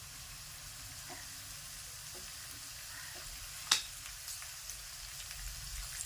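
Prawns sizzle quietly in a frying pan as they are turned. The soft, steady crackle is broken by a few light clicks and one sharper knock of the utensil against the pan.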